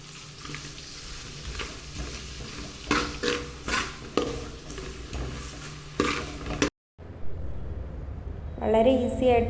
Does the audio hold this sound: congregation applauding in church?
no